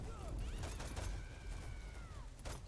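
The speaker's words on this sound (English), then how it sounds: "This is just a massive fucking gun shootout right now." Video game shootout with several quick, faint bursts of gunfire scattered across a few seconds, set against low rumbling background noise.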